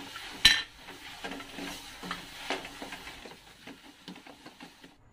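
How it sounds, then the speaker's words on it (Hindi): Potato being stirred and mixed into aloo kachori stuffing in a pan, a soft scraping and stirring with light utensil clinks and a sharp knock near the start, close and fairly quiet. "अब हम इसमें आलू ऐड करते हैं। आलू को हमको अच्छे से मिला देना है"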